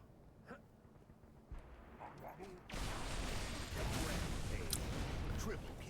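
A sudden, loud blast in a Halo Reach firefight swells into a sustained roar from about midway, mixed with gunfire and the clatter of battle.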